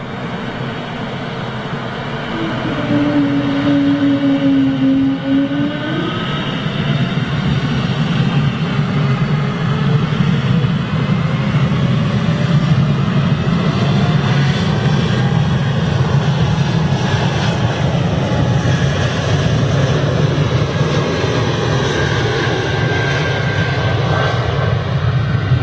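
Jet airliner engines spool up with a loud, steady roar, rising whines drifting upward in pitch over a heavy low rumble that holds for the whole stretch, close by and dominant.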